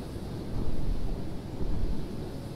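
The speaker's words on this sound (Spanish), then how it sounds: "Crea una tormenta." A storm raised in the video game Rime, a continuous low rumbling roar swelling twice over a few seconds, wind-like and dense, with no voices.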